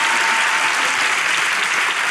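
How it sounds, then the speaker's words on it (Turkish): A studio audience on a Turkish talk show breaks into loud, continuous applause, a thick, steady roar of clapping filling the whole moment with no speech. "Alkışlar hocamıza."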